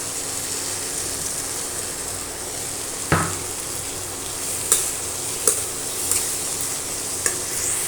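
Jackfruit fries in oil with spice paste, giving a constant close sizzle broken by several sharp clatters and scrapes of a spoon stirring against the pan.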